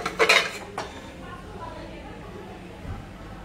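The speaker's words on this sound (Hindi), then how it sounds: "हम कुकर को खोल लेते हैं।" Metal clanks and clinks of a pressure cooker lid and pot being opened close by after the pressure is released, a quick cluster of knocks at the start, then a softer clatter.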